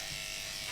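Electric clippers shaving a cat's fur, a faint, steady buzzing drone that runs without a break.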